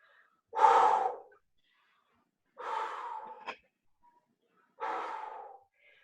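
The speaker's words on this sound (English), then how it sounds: "Good breathing." Heavy breathing during a resistance exercise workout: three loud, drawn-out exhalations spaced a couple of seconds apart, close and alone with no talk.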